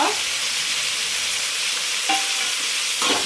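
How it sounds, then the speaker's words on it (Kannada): Cumin and dried chillies fry in hot oil for tomato chutney, giving a continuous close sizzle with a couple of faint stirring scrapes and no talking. "ಚೆನ್ನಾಗಿ ಫ್ರೈ ಮಾಡಬೇಕು. ಆಮೇಲೆ ಜೀರಿಗೆ ಸ್ವಲ್ಪ, ಒಣಮೆಣಸಿನ್ಕಾಯಿ ಸ್ವಲ್ಪ"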